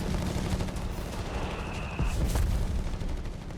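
Dense battle noise from Company of Heroes 3, with continuous rattling gunfire and booms rolling under a steady roar, short bursts standing out across the whole stretch.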